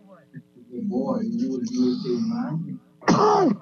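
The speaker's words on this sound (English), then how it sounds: "Still coughing" A person clears their throat and coughs, rough and raspy, followed by a sharp louder cough near the end.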